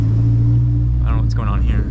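A Dodge SRT-4 car engine hums with a steady low rumble from inside the cabin while the driver shifts into first gear, with a person talking over it.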